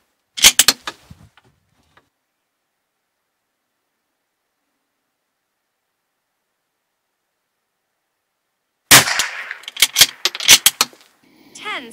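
Winchester T22 .22LR cartridges fired from a Bergara B14R rifle, a sharp crack near the start and then a quick string of several close, loud reports after a long stretch of silence.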